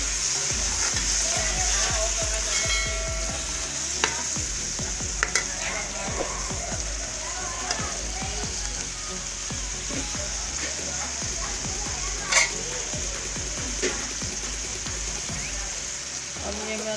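Spices sizzle and fry with golden fried onions in a pan for aloo and chana dal sabzi, a steady loud crackle with repeated scraping stirs and occasional sharper clinks throughout.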